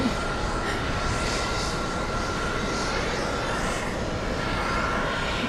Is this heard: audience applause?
no